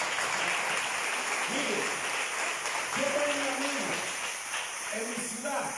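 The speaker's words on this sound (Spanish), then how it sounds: "Vamos a dar un aplauso al Señor." A church congregation gives a broad, continuous round of applause that fills the space at an even level, with a voice speaking briefly over the clapping partway through.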